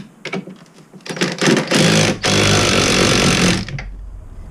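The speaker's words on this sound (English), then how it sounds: "The front one I can actually get the impact on. Let's get this first nut off." An impact wrench hammers at a front suspension nut on a Dennis Dart bus. Short bursts come first, then a long, loud, steady rattling run that stops abruptly, with workshop noise and no talk.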